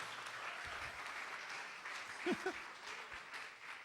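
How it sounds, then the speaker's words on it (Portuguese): Applause from a church congregation, steady and moderately distant, with brief voices cutting in near the middle. "Uma salva de palmas para o meu assistente."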